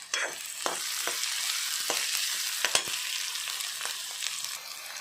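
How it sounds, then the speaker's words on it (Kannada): Onions fry in a pan for brinjal gojju, a soft steady sizzle with occasional sharp spatters and stirring clicks, fairly quiet and with no voice. "ನೀರುಳ್ಳಿ ಫ್ರೈ ಆಗ್ತಾ ಉಂಟು."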